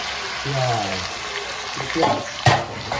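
Ground onions are dropped into a hot pan of golden-fried ginger and garlic for Assamese piyazi paneer, setting off a hissing sizzle with clattering, close and moderately loud.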